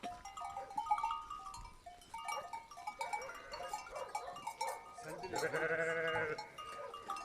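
Sheep and goats bleat on a farm at milking time, several overlapping calls near and far, with one long, loud, wavering bleat near the end; a cowbell may clank faintly among them.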